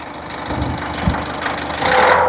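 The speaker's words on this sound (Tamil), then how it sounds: "லைட்டாக ரேஸ் பண்ணுப்பா ரேஸ் பண்ணு லைட்டாக" A vehicle engine idles and is revved lightly, its loud, close rumble swelling slightly toward the end.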